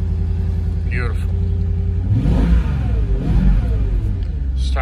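A Mercedes-Benz CL55 AMG with a 493-horsepower engine starting up, a loud rumbling crank and catch that settles into a steady idle, with a person speaking over it.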